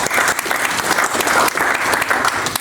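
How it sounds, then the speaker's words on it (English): Loud, dense applause from a conference audience at a Melbourne agency growth event, steady clapping sustained throughout with no voices on top. "Round of applause for Chris, please."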